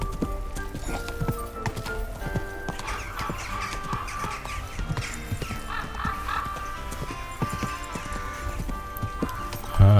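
Horse hooves clip-clopping in the video game Kingdom Come Deliverance II, a steady walking rhythm of crisp hoof strikes with a brief whinny, set against ambient outdoor game sound.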